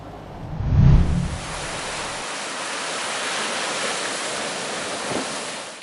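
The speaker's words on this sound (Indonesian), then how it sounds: "Cuaca ekstrim seperti gelombang besar, air pasang, dan angin kencang" Big waves, high tide and strong wind at a beach in Ketapang, a broad continuous rush of surf and wind noise, with a brief low rumble near the start and steady roar after.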